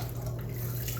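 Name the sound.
cold water being poured into a glass container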